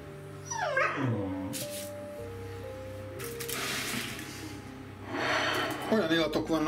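A puppy whines and yips in a few high, wavering cries, with steady music playing underneath.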